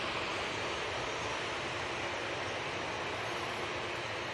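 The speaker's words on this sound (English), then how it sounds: "Erlingus A320 going back to Dublin" An Aer Lingus Airbus A320 airliner at Manchester Airport, bound for Dublin, gives off a steady broadband jet engine roar, loud and unbroken throughout with no pauses.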